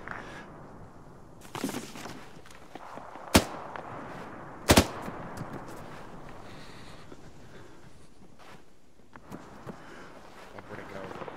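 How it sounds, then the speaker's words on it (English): Distant gunfire from the west in Arma, two sharp cracks standing out over steady wind and ambient noise, with a few fainter pops scattered around them. "We're hearing distant shots coming from the west."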